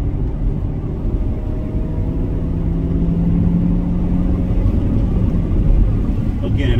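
Manual Chevrolet Corvette C7 engine on a test drive, a steady loud low drone with road rumble throughout, under a driver talking.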